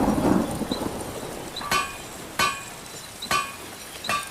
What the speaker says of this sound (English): Metal hammers